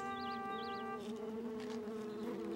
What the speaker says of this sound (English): He means that bee buzzing over all the flowers.